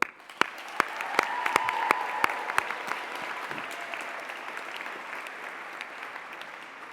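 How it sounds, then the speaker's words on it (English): A graduation ceremony audience at Greenwich applauds, with scattered sharp claps quickly building into dense, steady clapping from a large hall crowd. "One more big cheer for them."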